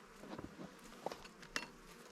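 Honey bees clustered at the top of an open beehive, giving faint buzzing and brief fluttering bursts close to the microphone against a quiet background.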